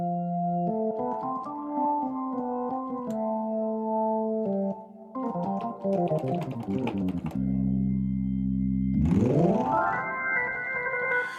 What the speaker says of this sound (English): Then you have a spring reverb, which happens to be on.